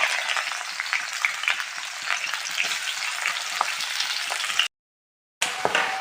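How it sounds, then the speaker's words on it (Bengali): Onions sizzling in hot mustard oil, a dense continuous crackle with small pops and stirring scrapes, briefly cut to silence near the end before resuming. "এই সর্ষের তেলে এখন দিয়ে দেবো পেঁয়াজ।"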